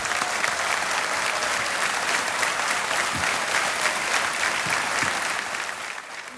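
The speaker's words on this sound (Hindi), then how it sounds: "तालियां बजती रहें इनके लिए।" Studio audience at the KBC game show applauds the contestants with sustained, dense clapping that stays steady and fairly close throughout, tapering slightly near the end, with no voices over it.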